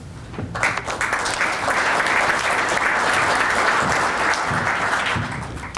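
Sustained applause from a seated audience welcoming a Federal Highway Administration speaker to the podium, a dense steady clapping that swells in quickly and holds for several seconds with no talking over it.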